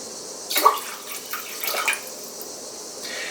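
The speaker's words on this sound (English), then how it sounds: "Into that pot, we're going to pour about 4 to 5 cups of water." Water is poured from a tap into a cooking pot, a steady soft stream with a couple of splashy surges, fairly close and moderately quiet, with no speech.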